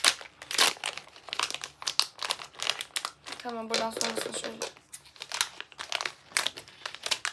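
Packaging crinkles and rustles as it is torn open by hand, with dense crunchy bursts throughout, heard close up under someone speaking Turkish.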